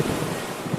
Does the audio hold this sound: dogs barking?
no